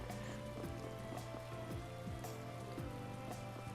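Steady rain pours down in the video game Tales of Vesperia, a constant hiss of drops on hard surfaces that holds at even loudness throughout, with faint game tones and soft musical blips running underneath.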